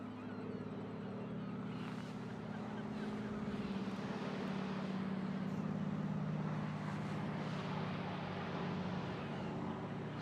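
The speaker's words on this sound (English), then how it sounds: "So there's a seaplane up there" A seaplane on a scenic tourist flight over Hobart, Tasmania drones steadily overhead, a continuous low engine hum that holds for about ten seconds with no voices.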